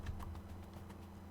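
Faint, fairly regular clicks of typing on a computer keyboard tap along quietly over a low background hum.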